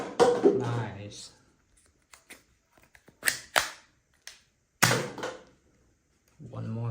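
A Blaze Storm toy Nerf gun fires about three or four sharp, close pops separated by silences, with excited talking before and after the shots.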